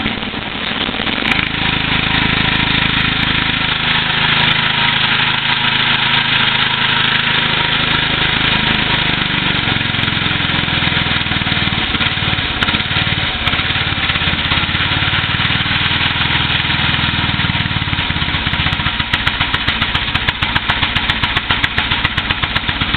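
Small engine running steadily with the choke on, a continuous loud mid-range drone like a lawn mower that holds even throughout with little change.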